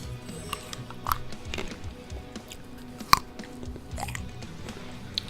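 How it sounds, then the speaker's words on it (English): Crunchy grapes being chewed up close, with wet biting crunches and soft squishing in an irregular rhythm, one sharper crunch standing out. "I have some really good grapes, and I'm eating them in front of you. They're crunchy."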